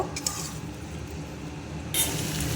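Potatoes and soybean chunks in a vegetarian curry are stir-fried in a pan, giving a steady low sizzle with faint scraping, and a brighter burst of frying hiss near the end; no one speaks.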